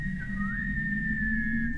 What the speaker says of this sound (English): so I started whistling.